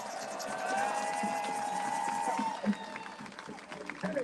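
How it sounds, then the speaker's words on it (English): Crowd applause and cheering fill the space, a steady wash of clapping with scattered shouts, fairly loud and sustained throughout. "Give her a warm round of applause."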